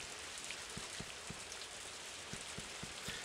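Rain falls in the farming game Story of Seasons: A Wonderful Life, a quiet continuous hiss with faint, regularly spaced low taps of drops beneath, no voices present.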